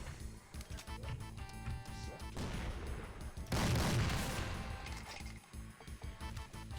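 Dense, continuous enemy gunfire and booming fusillade in Doom (Plutonia 2 with Complex Doom mod), loud and layered with game music and mechanical clatter, swelling into a heavier burst midway.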